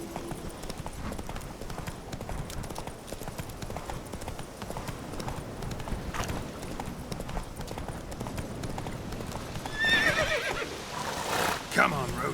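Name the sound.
Roach the horse galloping, The Witcher 3 video game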